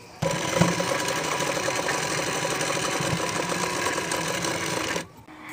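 A sewing machine stitches a blouse in one loud, continuous run lasting about five seconds, starting abruptly and stopping just before the end.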